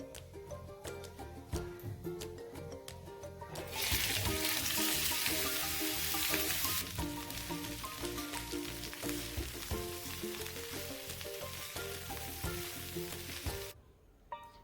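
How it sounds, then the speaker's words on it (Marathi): Sliced onions fry in a little oil on a tava, a close, continuous sizzle that swells loudly midway as they hit the hot oil, with stirring scrapes throughout and a brief dip near the end. "आपण आता तव्यावर थोडंसं तेल घालून हे कांदे फ्राय करून घेणार आहोत"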